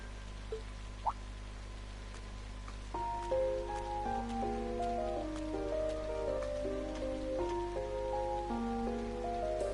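Steady rain falls in the video game Trails of Cold Steel as a soft continuous hiss under a gentle melodic music score, with no voices.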